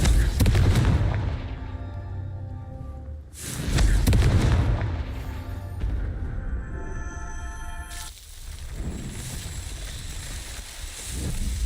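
Confringo blasting spell explosions in the video game Hogwarts Legacy boom out in heavy, resonant blasts, two big hits a few seconds apart, each trailing off in a long rumble, followed by a softer later burst.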